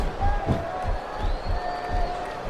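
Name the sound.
wrestling video game crowd cheering (SmackDown vs Raw 2007)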